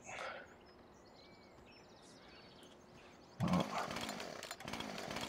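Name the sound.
chainsaw in Farming Simulator 17 video game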